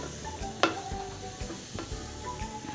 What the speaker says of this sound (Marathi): तर आता आपल्याला हा सगळा असा मस्तपैकी चव हा एक 5 मिनटं आपल्याला कोरडा परतून घ्यायचा आहे.